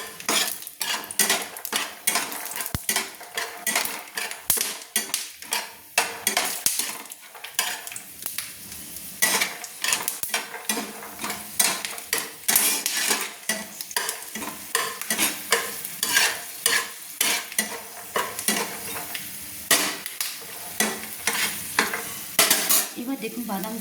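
Nuts frying in oil in a pan over a low flame for chirer polao, stirred continuously with a metal utensil that scrapes and clinks against the pan. A steady, fairly loud clatter runs throughout with a soft sizzle beneath, and no talking.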